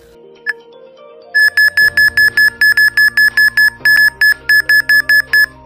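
A hidden camera detector app on a phone sounding its alert: after one short early beep, a loud, rapid train of regular electronic beeps repeats steadily at close range, alone, with a brief gap midway.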